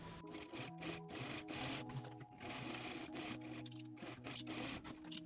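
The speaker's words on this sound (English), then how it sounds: "So let's bar tack the elastic in place here." Sewing machine stitching a bar tack to fix elastic on a knit dress, a close, steady mechanical whir and needle chatter running back and forth in short bursts with brief pauses.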